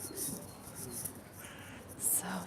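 Pigeons coo softly on a sunny day in Vienna's Stadtpark, faint low calls mixed with distant chirps and outdoor background noise.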